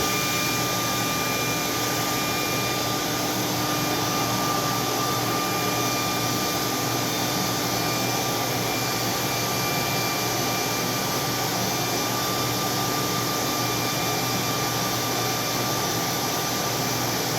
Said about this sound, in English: use the hairdryer and go ahead and just push it on cold